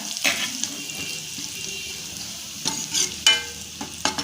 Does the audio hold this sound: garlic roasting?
yes